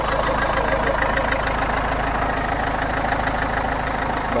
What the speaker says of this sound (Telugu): వెహికల్ ఒక ఇంజన్ వ్యూ చూపిస్తాను చూడండి.